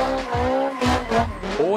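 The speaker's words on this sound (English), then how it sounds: "Boys, this is the sound you will hear every morning at 3 a.m. It's a Honda Civic." In the Assetto Corsa racing game, a Honda Civic engine revs hard in quick surges mixed with tire squeal. The bursts are short and loud and follow one another rapidly.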